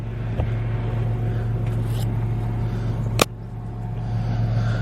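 A tractor engine drones under heavy load while pulling a tillage implement set too deep in a field, a steady low rumble with a sharp clank partway through; no one speaks.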